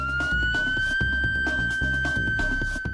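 A loud police siren wails steadily and continuously, close by, with a rhythmic pulsing beat underneath throughout.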